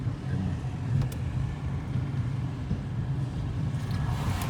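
A car engine revs nearby on a city road in Brovary, producing a steady, loud low rumble that holds for several seconds with no speech over it.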